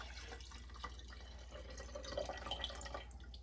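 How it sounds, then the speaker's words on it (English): Liquid hooch trickles and drips as it is poured off an old, years-neglected sourdough starter, with soft splashing and irregular drips over a low steady hum, quiet and close. "I'm going to pour off this hooch"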